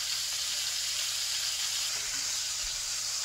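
Sausage browning in a hot pan before going into the oven, a steady close sizzle and hiss running unbroken throughout with no talking.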